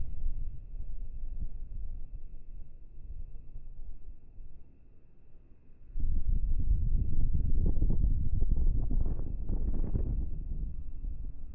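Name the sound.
wind blowing on a lake while fishing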